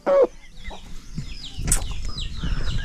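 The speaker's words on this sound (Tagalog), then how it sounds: "Isang tigtilaok dyan." A rooster crows loudly nearby, a drawn-out call, followed by softer clucking and rustling from the birds.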